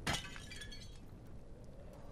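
A vase shatters in Amnesia: The Dark Descent, a single sharp glass-like crash at the start followed by a short tinkling decay of falling shards, then quiet room ambience.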